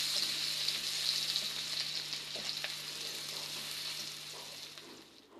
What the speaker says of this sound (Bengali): এই যে তেলের মধ্যে অনেকগুলাই পেঁয়াজ দিয়ে দিয়েছি, এরপর দিয়ে দিলাম কয়েকটা কাঁচামরিচ ফালি